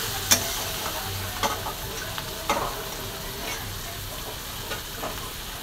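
Cluster bean thecha with salt is stirred and mixed in a pan, with a low continuous sizzle and several sharp clicks of a spoon against the pan at irregular intervals.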